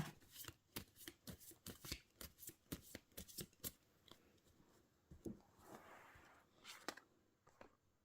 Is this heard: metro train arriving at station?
no